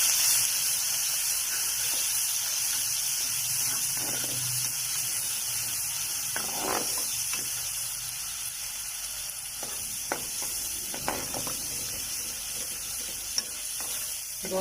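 Onion and ginger-garlic paste fry in hot oil for a chickpea curry, making a steady, close sizzle and hiss that runs throughout, with occasional stirring scrapes rising above it.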